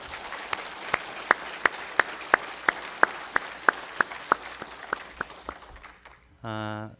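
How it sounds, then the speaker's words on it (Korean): A church congregation claps for a visiting missionary in a slow, even rhythm of sharp, distinct claps, fading out before a voice speaks briefly at the end. "큰 박수 보내주시기 바랍니다."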